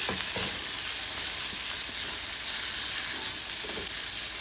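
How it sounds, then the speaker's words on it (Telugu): Green peas and sweet corn fry in a pan with a dense, continuous hiss of hot oil, loud and close, with faint soft stirring taps now and then beneath the sizzle. "ఇప్పుడు తీసి పెట్టుకున్న పచ్చి బఠానీ స్వీట్ కార్న్ కూడా వేసేసుకొని మంచిగా వేయించుకోవాలి అన్నీ వేగుతున్నాయి"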